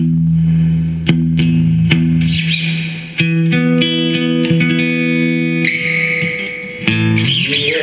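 A JCM guitar amp with its replacement reverb turned all the way down plays clean electric guitar notes and chords, with clear plucked attacks and sustained ringing tones heard close and loud.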